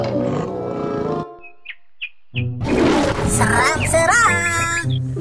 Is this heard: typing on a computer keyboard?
no